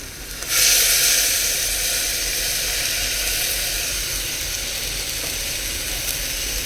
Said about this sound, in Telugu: ఫ్రై అయిన దాంట్లో మనం ఇప్పుడు టమోటా ప్యూరీ వేసుకున్నామండి